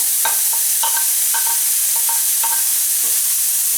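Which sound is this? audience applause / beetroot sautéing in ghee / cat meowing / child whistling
beetroot sautéing in ghee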